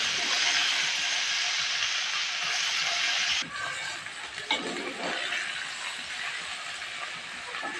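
Okra (bhindi) frying in a pan, a loud, bright sizzle that runs steadily and then drops to a softer crackle partway through.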